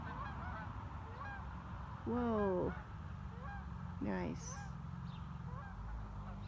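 A flock of geese honks as they fly overhead, two separate bursts of repeated calls carrying clearly over faint background hiss, with a person briefly speaking in between.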